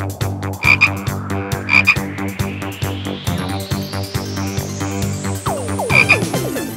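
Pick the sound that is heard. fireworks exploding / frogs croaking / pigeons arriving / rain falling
frogs croaking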